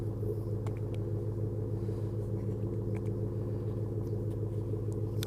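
Roush-tuned 2013 Ford F150 FX4 exhaust giving a deep, steady low rumble close to the microphone, held fairly constant without sharp revs, with no talk.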